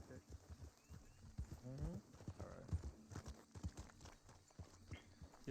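A horse in a video game clip-clops along a road with several hooves striking in an uneven rhythm, and it gives a brief whinny partway through, all under ongoing voices talking.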